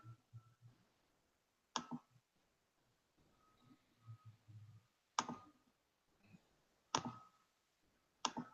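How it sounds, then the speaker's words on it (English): A computer mouse clicks a link, producing several quiet, sharp clicks spaced a second or two apart against a nearly silent background. "Okay, Steve, I'm going to click on it."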